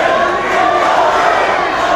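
A wrestling crowd on its feet cheering and shouting in an arena, a dense, loud, continuous roar of many voices.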